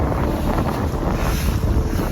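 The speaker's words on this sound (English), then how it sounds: "Just a little windy." Steady, heavy wind buffets the microphone, a continuous low roaring rush with no pauses.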